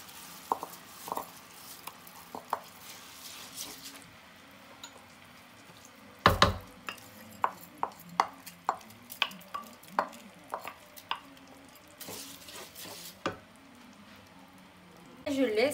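Washed rice being stirred and fried in a pan, with scattered scraping and clicking spoon strokes over a faint sizzle, quiet and close, with a person talking at times.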